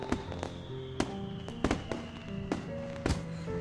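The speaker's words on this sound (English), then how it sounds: "Minutes of silence pass, with only the blast of the fireworks to be heard." Fireworks blasting in the visual novel Katawa Shoujo, a series of sharp, loud bangs and pops at irregular intervals with softer crackles and tones between them, and no talk.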